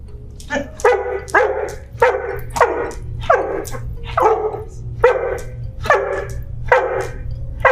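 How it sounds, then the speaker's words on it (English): A dog barks over and over in a steady, regular rhythm, loud and close, with a low hum underneath. "he's gonna bark continuously until somebody comes to help me, or until I tell him okay"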